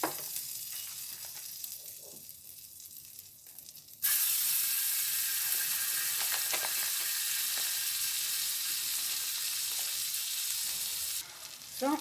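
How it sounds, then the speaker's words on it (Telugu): Butter sizzles in a pan for scrambled eggs. A quiet lead-in gives way to a sudden loud, steady frying hiss that runs for several seconds, then drops off near the end. "సో ఇప్పుడు మనం అదే ప్యాన్లో కొంచెం బటర్ వేసి స్క్రంబుల్డ్ ఎగ్ చేసేద్దాము"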